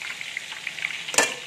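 Tofu frying in hot oil for crispy tofu, a steady close sizzle and crackle throughout, with a sharper burst of bubbling near the end.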